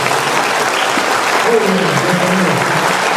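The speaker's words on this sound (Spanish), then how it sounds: "Bienvenido, un aplauso." Loud, steady applause fills a church congregation welcoming a visiting brother, sustained throughout with a voice speaking briefly over it.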